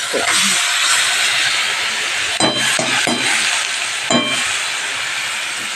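Curry frying in oil as the last of its water cooks off, a steady close hiss with a few light utensil clinks.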